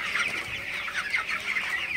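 Broiler chickens on their 21st day cluck and murmur in a busy overlapping chorus at night, steady nearby calls with no speech over them.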